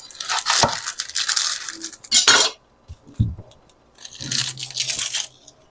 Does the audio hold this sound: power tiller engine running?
no